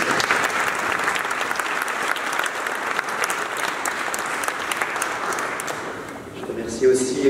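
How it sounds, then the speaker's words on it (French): A seated audience claps warmly at a Christian comic-book award ceremony, steady applause that thins near the end as a voice begins speaking over it. "Oui, on peut l'applaudir."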